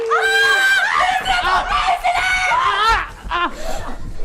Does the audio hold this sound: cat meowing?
no